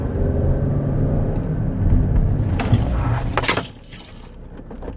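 A Ford Fiesta Mk6 engine rumbles steadily, then a sudden clatter of keys and loose objects rattling as the car brakes hard while testing a replaced brake hose, followed by a quieter idle.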